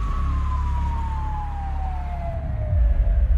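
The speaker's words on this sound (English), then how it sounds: "loaded into the back of an ambulance, headed for the Cleveland clinic" An ambulance siren wails in one long descending tone over low traffic rumble, fading as a heavier engine rumble rises at the end.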